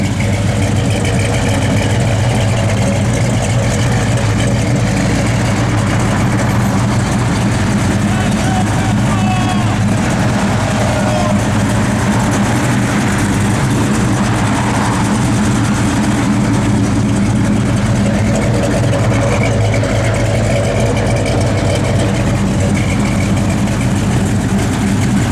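A 1968 Chevrolet Chevelle engine idles steadily at close range, a low rumbling hum that stays constant throughout with no talking.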